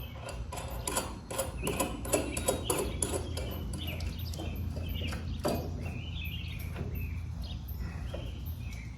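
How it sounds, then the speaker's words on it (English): A bolt runs through metal on a UTV jack, making close, irregular metallic clicks and ratcheting scrapes, busier at first and then thinning out, with faint birdsong in the background. "I'm gonna run this bolt all the way through."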